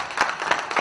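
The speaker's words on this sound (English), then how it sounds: "Can we have a huge round of applause?" A short burst of scattered clapping at a conference event, a few hands applauding at moderate volume with uneven rhythm.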